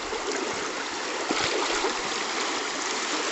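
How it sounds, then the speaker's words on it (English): Deep river stream water rushing steadily, a broad continuous hiss and gurgle with faint splashing, close and even throughout. "Situation like this here, going across in a stream really, really deep."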